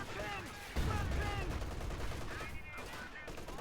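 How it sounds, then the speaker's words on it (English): In the video game Company of Heroes 2, bursts of gunfire crackle over a low, rumbling explosion boom, with a distant voice shouting faintly beneath the battle noise. "Explosions and the sound of dying men."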